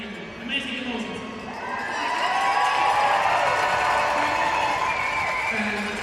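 Hockey fans in a large arena cheer and shout, the crowd noise growing louder and fuller halfway through and then holding at a dense, sustained roar.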